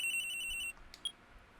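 A cell phone ringtone from the Phoenix Wright Ace Attorney video game plays as a repeating electronic trill for under a second, then cuts off, followed by a couple of faint short beeps.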